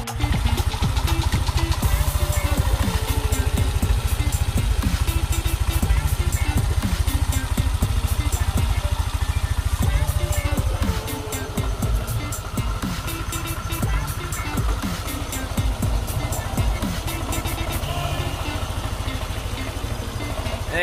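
Yamaha NMAX scooter idling steadily after a change to Motul engine oil, a continuous close, loud low engine hum with a faint rattle, no talk over it.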